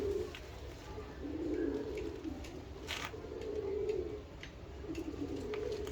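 Golden pigeons coo softly in low, rolling phrases that rise and fall a few times, close by in a quiet room with faint background noise and no talking.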